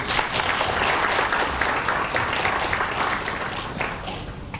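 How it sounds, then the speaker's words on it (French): A crowd claps warmly at the launch ceremony of a Haitian youth engagement initiative, greeting three people onto the stage with continuous, fairly loud applause that tapers slightly toward the end. "Sur vos applaudissements, s'il vous plaît, mesdames et messieurs, on accueille Marc,"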